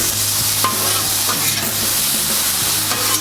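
Steak searing on a Blackstone flat top griddle, a loud continuous hiss and crackle of frying with faint scraping touches, no voices.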